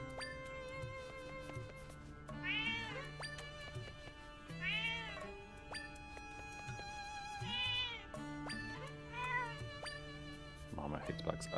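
A cat in the Zelda: Echoes of Wisdom video game meows several times in repeated short, rising calls over soft background game music, fairly close and clear.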